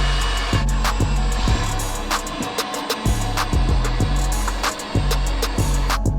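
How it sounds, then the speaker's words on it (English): A copper wire stripping machine runs loudly with a steady motor hum, broken by repeated rhythmic clunks and snaps as wire is fed through, close and with no one talking. "This machine also has a specific location for house wire,"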